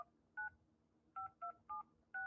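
Touch-tone beeps from a phone keypad being dialed, six short, evenly clipped dual-tone presses with brief gaps between them, close and clear, with no talking.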